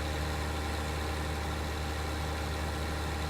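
A cotton harvester engine idles in Farming Simulator, a steady low mechanical hum and drone that stays constant and unbroken throughout, no speech over it.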